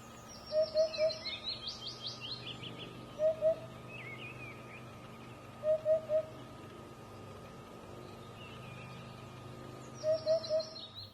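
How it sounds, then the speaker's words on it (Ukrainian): A Eurasian hoopoe repeats its hollow, soft 'oop-oop-oop' call in short triplets at steady intervals, fairly close, while other birds chirp faintly in the background of an outdoor setting. "одуди перекликаються глухими окриками «Уп-уп», яким і зобов'язані своєю назвою"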